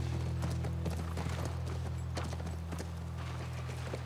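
Hooves clip-clop in a quick, steady rhythm over a constant low hum, the clatter even and moderately close, from the video game The Last of Us Part I.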